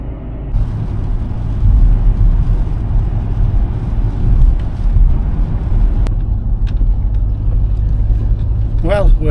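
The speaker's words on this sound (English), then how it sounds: "And we're in bad traffic." Car moving through slow traffic on a rainy day, a steady low engine and road rumble inside the cabin with swishing wet-road noise, fairly loud and constant, with a brief high chirp at the very end.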